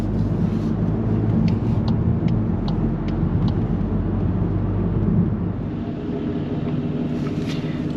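A Volkswagen MK8 GTI driving on the road, with a steady low road and engine rumble, faint tire and wind noise, and a few light clicks in the cabin. The sound is moderately loud and carries no talk.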